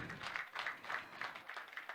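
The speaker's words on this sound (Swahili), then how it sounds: "Makofi tena, sio mchoyo wa makofi tafadhali." Audience applause at an outdoor stakeholder engagement and exhibition event in Kwale, Kenya, heard as steady, fairly faint clapping with a pulsing rhythm across the whole moment.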